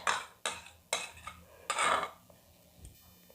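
A spoon scoops coriander leaf paste into a separate bowl, making a few sharp clinks and scrapes against the dish. The clicks come in quick succession, then a softer scraping burst before it fades to quiet.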